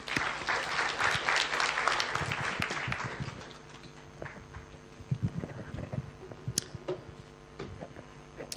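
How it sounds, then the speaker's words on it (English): An audience at an academic symposium applauds, loud at first and then thinning out to scattered claps and a few taps as it fades. "A big round of applause for him."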